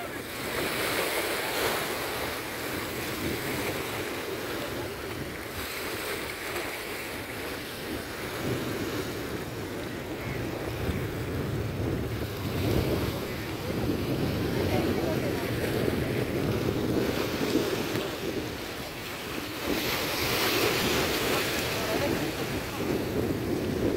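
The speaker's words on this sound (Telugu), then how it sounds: "ఏంటి బోట్ నా వైపు దూసుకొచ్చేస్తా ఉంది" A boat roars steadily over the sea near the Kochi port, with waves slapping and wind buffeting the microphone throughout, loud and continuous.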